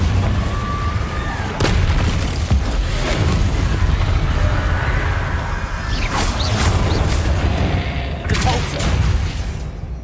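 Repeated fiery spell blasts from the Confringo spell in Hogwarts Legacy, with sharp booming impacts over a constant loud rumble of combat and brief voice bits mixed in.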